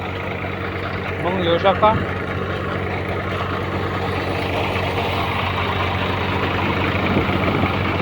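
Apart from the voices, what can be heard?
tractor engine idling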